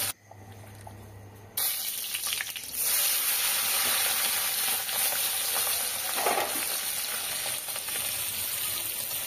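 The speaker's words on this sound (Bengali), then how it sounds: "মাছগুলো বেশ একটু লালচে লালচে করে ভেজে নেব" Oil sizzles loudly and steadily as small tangra catfish fry, after a short quiet start.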